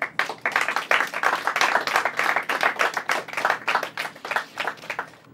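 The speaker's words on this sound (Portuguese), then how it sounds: "Uma salva de palmas para todos eles." A studio audience claps steadily for St. Xavier's High School, Mapusa, dense applause with many overlapping hand claps, loud and sustained throughout.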